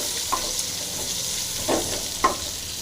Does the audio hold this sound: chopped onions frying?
yes